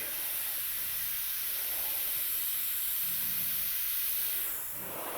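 An airbrush sprays paint with a steady, close hissing rush of air that holds for several seconds before trailing off near the end.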